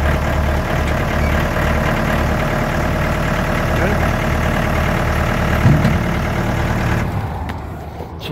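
A tractor engine idles loudly and steadily with a low rumbling drone, then the sound thins out near the end.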